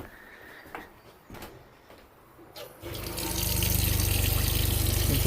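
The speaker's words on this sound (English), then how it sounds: "You can hear the pump running" A water pump in house plumbing kicks on after a few quiet knocks, then runs steadily with a loud rushing, rhythmic hum that builds and holds close by.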